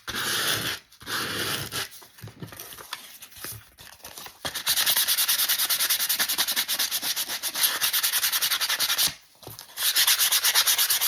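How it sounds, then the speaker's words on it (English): The edge of a recycled book cover is roughed up with 150-grit sandpaper: close, scratchy rubbing strokes, short and uneven at first, then long, loud continuous sanding with one brief pause. "this is just the 150 grit sandpaper. And I'm just going to rough up the edge"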